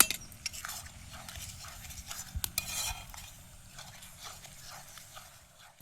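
Rice flour being stirred into a sticky loitta fish batter in a bowl outdoors on a riverbank, with soft wet stirring and scraping plus occasional utensil clinks, close and fairly quiet, with no talking.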